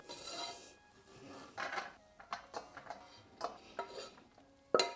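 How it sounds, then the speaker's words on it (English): Cooked dal is scraped and spooned from a pan into a bowl: quiet, close scrapes and utensil clinks arrive in irregular bursts, ending with one sharper knock. "I'm actually going to transfer it to a bowl, so it's slightly quicker to cool down."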